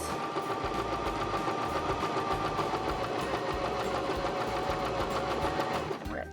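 A Baby Lock Zest sewing machine stitching a zipper into fabric, a steady fast mechanical whir and needle chatter running evenly and close, stopping at the end.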